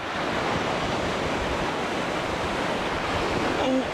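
Steady rushing surf of ocean waves, loud and close, a continuous wash of water with wind noise and no clear breaks.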